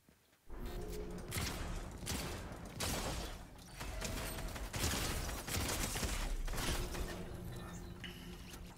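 Dense gunfire in a Fortnite match, including an assault rifle, rattles in rapid overlapping bursts over several seconds, fairly quiet and somewhat distant, with no voices.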